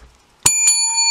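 A single bright, ringing bell ding strikes sharply after a brief quiet and sustains with a clear metallic tone, loud and close.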